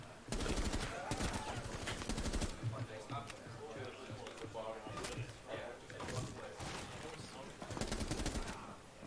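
Loud bursts of rapid gunfire from the video game Rainbow Six Siege, with repeated shots and short pauses, and a voice talking over the shooting.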